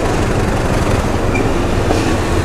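A train at Surabaya Pasar Turi station near a locomotive depot, loud and close, with a steady rolling rumble and rail noise.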